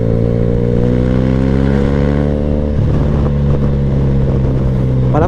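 A TRK 502 motorcycle engine running steadily at close range, its pitch rising slowly, then dropping and climbing again with a rev near the end.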